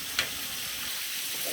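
Meat or chicken sizzles in a hot pan while being sautéed for a tagine, a soft, steady frying hiss with one brief sharper crackle near the start and no voices.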